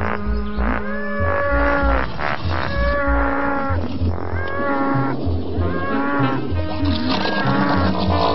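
A herd of cows on a farm moos over and over. Long, deep, overlapping calls come loud and close, one after another, over a constant background, with no talking.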